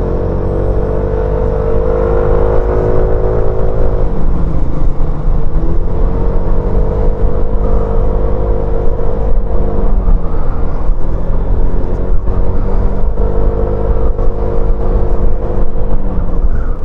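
A Zontes M125 Euro5 motorcycle engine runs loud and steady while riding, its droning tone rising and dipping with the throttle for the whole stretch, with no voices over it.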